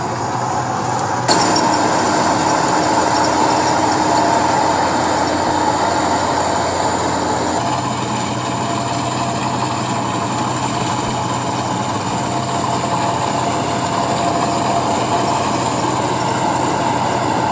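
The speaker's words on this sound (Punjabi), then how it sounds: "ਬਿਲਾਲ ਮਾਰਸ ਆ ਵੀ ਚੜ ਗਿਆ ਕੰਬਾਈਨ ਤੇ, ਆਪ ਚਲਾਏਗਾ ਨਾ।" A combine harvester engine runs during a wheat harvest, a loud steady mechanical roar and hum that continues throughout without a break.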